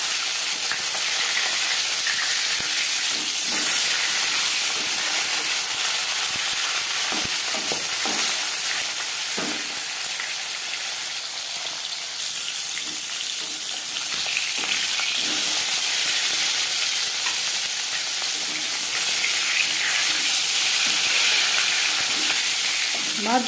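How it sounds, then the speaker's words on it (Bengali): Tilapia fish pieces frying in hot oil, a loud, dense and continuous sizzling hiss that holds steady throughout with occasional faint clinks and movements in the pan. "মাছ এক পিস ভাজা হয়ে গেছে"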